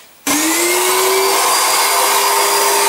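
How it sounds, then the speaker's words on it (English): A vacuum cleaner starts abruptly and runs with a steady, loud, close whine while cleaning a car seat in a Mercedes-Benz R129 SL, the motor pitch rising slightly as it spins up. "And then obviously with the vacuum, you're gonna wanna get in there"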